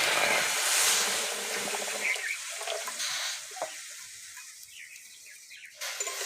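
Moong dal in a pan as water is poured in for boiling: a brief burst of sizzling and splashing up close, fading to quieter bubbling and faint stirring scrapes, with no talk.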